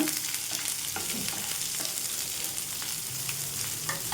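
Chopped onions sizzle in a hot pan while being mixed for a chickpea masala curry, with a steady frying hiss and occasional spatula strokes, close and without talking.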